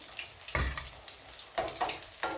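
Balls of riceberry rice coated in egg and salt sizzle and crackle as they fry in hot oil, with steady bubbling and a few louder bursts of spattering close by.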